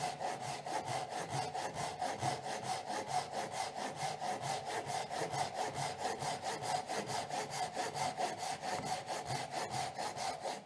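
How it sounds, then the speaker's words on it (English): A Japanese hand saw cuts through wood in a steady back-and-forth rhythm, each stroke a close, raspy rub, repeating evenly throughout while building a small hand tool workbench with a vice. "You don't have to press down too hard on these Japanese hand saws."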